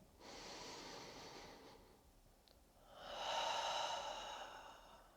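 A person exhales then inhales slowly and audibly during a morning yoga stretch, two long, airy breaths close to the microphone with a short pause between them.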